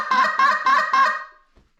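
Four short, nasal honks from a goose call, evenly spaced and fairly close, each note reedy and thin before trailing off into silence.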